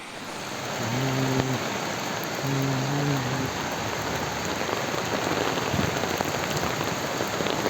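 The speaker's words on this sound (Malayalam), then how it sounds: "നാല് മണിക്ക് തുടങ്ങിയ മഴയാണ്" Heavy monsoon rain in Kerala pours down steadily, a dense, loud hiss throughout, with a couple of short tonal horn-like blasts early on.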